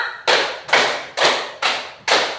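A classroom of children claps in unison, five sharp group claps in a steady counted rhythm, close and loud with short decaying tails between them.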